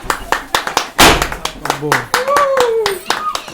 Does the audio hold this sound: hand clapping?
yes